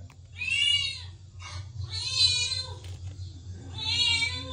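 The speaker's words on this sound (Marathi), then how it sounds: "लॅपटॉपवर कॅट साऊंड लावून दिलाय" A cat meows three times in drawn-out, whiny calls, slightly tinny from a laptop speaker, with a low hum underneath.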